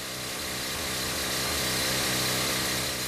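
Rock drill boring blast holes into stone inside a jade mine tunnel, a loud steady high-pitched mechanical whine and rattle holding continuously throughout with no break.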